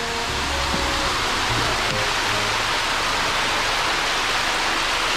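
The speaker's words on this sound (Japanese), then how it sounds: "この滝、" A waterfall beside a forest road along Wakayama's Prefectural Route 194 gives a constant, loud, broadband rush of falling water, steady throughout with no pauses.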